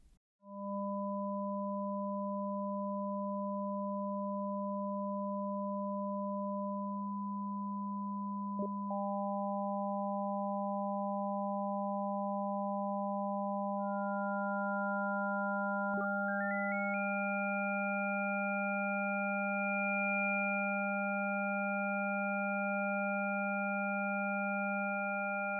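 Pure sine tones from additive synthesis hold steady as a low drone with higher partials layered above, new tones entering and shifting pitch in a few distinct steps, clean and electronic with no voices.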